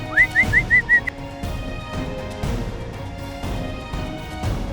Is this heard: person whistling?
yes